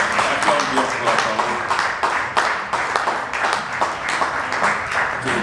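A church congregation applauds for the Lord with steady, fairly loud clapping from many hands that runs continuously for several seconds and fills the room.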